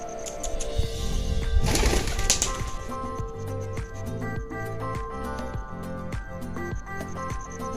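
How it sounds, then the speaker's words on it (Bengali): Pigeons flocking in expecting rice, their soft repeated cooing close by amid fluttering and light scratchy movement, with no talk. "দেখো আমাকে দেখে কতগুলো পায়রা চলে এসেছে"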